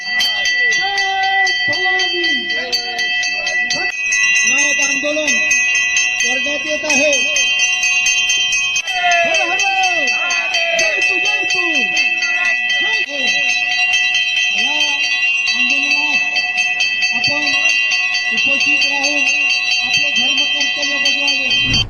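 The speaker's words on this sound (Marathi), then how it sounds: "वतीने आज इथे घंटा आंदोलन होत आहे" Temple bells ring continuously and loudly at a bell-ringing protest in front of the Tulja Bhavani temple, a steady metallic clangour under someone speaking throughout.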